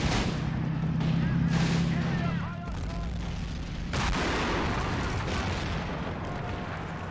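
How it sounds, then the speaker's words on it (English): Mortar artillery fire in a trench-warfare video game: deep booms at the start and again about four seconds in, over a continuous rumbling battlefield bed, with a muffled voice faintly underneath. "We should be able to bring up our own mortars."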